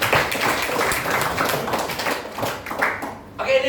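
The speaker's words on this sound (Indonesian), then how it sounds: "Tepuk tangan dulu." Audience clapping, scattered and uneven, at a gathering, with voices chattering throughout and a brief lull near the end before the clapping picks up again.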